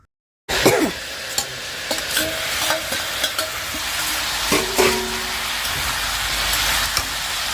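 Sweet pumpkin pieces sizzle and fry steadily in a scorching wok, with a continuous crackling hiss and occasional sharp clicks of a utensil stirring, close and fairly loud throughout.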